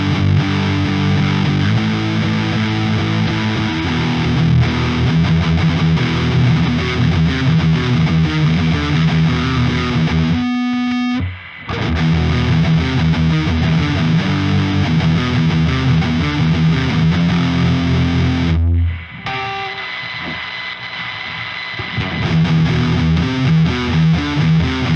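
Loud, heavily distorted electric guitar from a Solar V2.6W playing sustained chords and riffs, with two brief pauses and a change of tone near the end.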